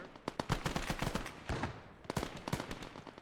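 Gunfire rattles through a Call to Arms: Gates of Hell Ostfront battle, with dense machine-gun bursts and scattered rifle shots cracking at close and middle distance, pausing briefly before another volley.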